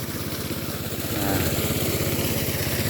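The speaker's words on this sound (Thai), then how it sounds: "เครื่องซึมน้ำนี่ ตั้งบริเวณนี้โอ้ได้หลายแปลงเนาะ ะเดี๋ยวก็สูบแปลงนี้เต็มนะ" A small engine-driven water pump runs in a farm field, a steady close chugging drone that holds even throughout and grows slightly louder partway through.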